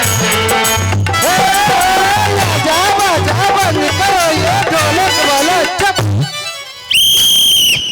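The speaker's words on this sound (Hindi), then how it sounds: "मालकिन को सीटी बजा दिए हैं" A shrill whistle blows suddenly and loudly near the end of a Maithili folk nach stage show, cutting in after the full band music and singing stops.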